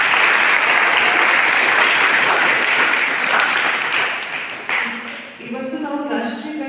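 Loud, dense applause from an audience at a National Mathematics Day event at a science centre, sustained for several seconds before breaking up as a voice starts speaking.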